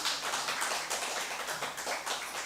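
A church congregation at a Friday worship service in Busan applauds in a dense, continuous burst of clapping that fills the room, loud and sustained for a couple of seconds.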